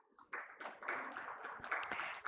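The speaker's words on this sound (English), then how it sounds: "let's give a warm round of applause" Audience applause at a conference session on social protection and female agents in last-mile services, a steady wash of clapping from a seated crowd lasting a couple of seconds, close and moderately loud with no talk over it.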